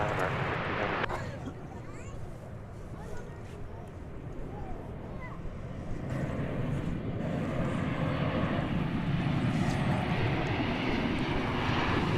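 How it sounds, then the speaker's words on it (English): An American Airlines Boeing 737-800 jet arriving at DFW Airport, its engine roar a steady, broad rumble that swells slightly toward the end as it passes, with a voice talking over it. "It's an American 737-800 coming in from Querétaro, Mexico."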